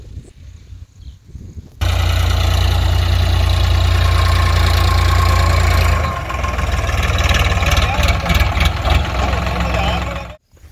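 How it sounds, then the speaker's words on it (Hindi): A tractor engine runs loud and close during soybean sowing on a farm, a heavy, steady, low rumble with knocking that keeps going, then shifts and changes as the tractor approaches. "गाइस आपको ट्रैक्टर दिख रहा है आ रहा है उधर से"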